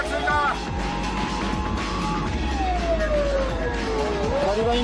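A Japanese police patrol car races past with its wailing siren sweeping up and down, loud and close over engine rumble and heavy traffic noise during a pursuit on a city road.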